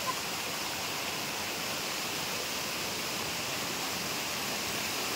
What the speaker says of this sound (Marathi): कड्यावरून खतरनाक पाणी वॉटरफॉल सारखं पडत आहे।